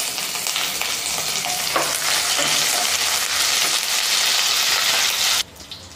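Loud, steady sizzling of a dried red chili frying in hot oil for mushroom gravy, continuous crackle that cuts off abruptly near the end.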